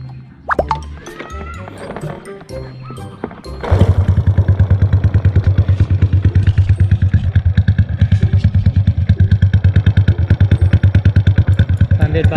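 A few clicks and clunks, then a Honda Dream motorcycle engine fires up and settles into a loud, steady, rapid putt-putt idle nearby, unrevved.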